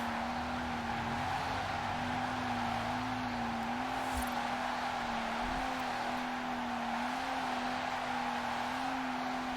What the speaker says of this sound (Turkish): Yakıyoruz lastiği.